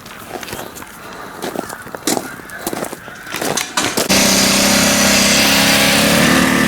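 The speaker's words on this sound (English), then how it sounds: "I got that old generator running like a champion." An old generator engine runs steadily and loudly from the four-second mark, after earlier irregular clattering and knocking in a garage setting.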